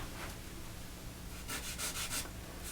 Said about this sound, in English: I'm going to take my little piece of charcoal, soft charcoal, and I'm not drawing any details yet